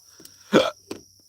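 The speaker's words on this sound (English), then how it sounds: "I'm trying not to burp on you." A burp from a person speaking live inside a stealth camper, a single short guttural belch in the middle of quiet with a faint catch just before and after it.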